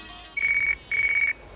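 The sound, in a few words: phone ringing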